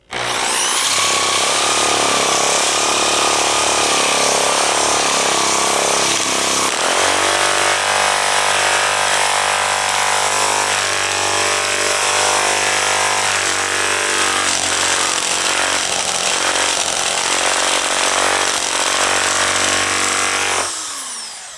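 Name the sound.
drill-mounted sanding attachment sanding soft pine wood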